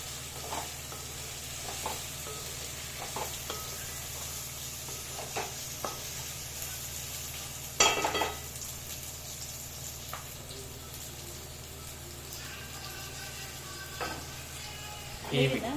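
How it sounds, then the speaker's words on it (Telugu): Onions and garlic paste fry in a pan with a soft, continuous sizzle, punctuated by occasional scraping and stirring knocks, one louder clatter midway, and no talking. "ఈ విధంగా ఆనియన్ వేగించే వరకు మనం వెయిట్ చేయాలి"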